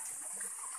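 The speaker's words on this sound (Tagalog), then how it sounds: "Nandito na kami sa mismong falls." Malatongtong Falls, a waterfall in Sablayan, Occidental Mindoro, pours as a steady, even wash of falling water, close and continuous with no voices over it.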